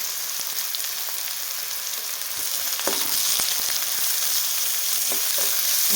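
Onion browning in hot oil with cumin and mustard seeds in a pan, a loud, dense and continuous sizzle close by, with occasional stirring clicks and spatters.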